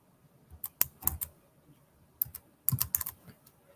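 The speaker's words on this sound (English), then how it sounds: "Don't laugh at my typing." Typing on a computer keyboard, close by: scattered clusters of quick clicky keystrokes separated by short pauses, with a denser flurry near the end and no talk.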